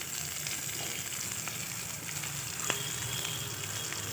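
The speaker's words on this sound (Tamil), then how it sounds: "வெங்காயமும் நல்லா கோல்டன் ப்ரௌனாக வறுபட்டு வரணும்." Urad dal and onion frying in a pan for onion chutney, a constant, even sizzle with a few faint crackles and one sharp clink of a utensil, no voices.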